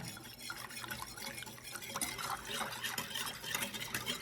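Key lime juice is stirred into a Jell-O mixture in a bowl, making close, wet sloshing and liquid swirling in an uneven rhythm. No voices are heard.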